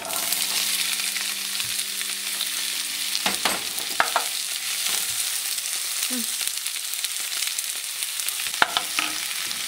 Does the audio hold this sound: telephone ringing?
no